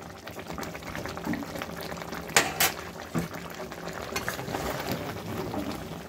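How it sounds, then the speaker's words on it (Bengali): Rohu fish rezala curry bubbles in a pot with a continuous soft boiling simmer, broken by a couple of brief louder scrapes or clinks of a spoon midway. "এবার এটা 10-15 মিনিট ফুটবে"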